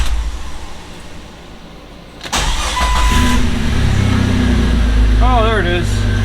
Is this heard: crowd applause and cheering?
no